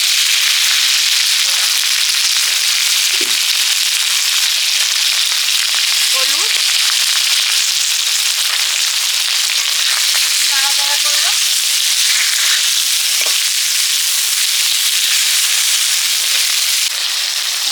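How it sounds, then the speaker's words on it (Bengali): Fish and green chillies with panch phoron sizzle loudly and steadily in hot oil, a dense continuous frying hiss with occasional pops and spatters throughout. "তেলে দিলাম পাঁচ ফোড়ন দিয়ে মাছ আর কাঁচা লঙ্কা একসঙ্গে দিয়ে দিলাম"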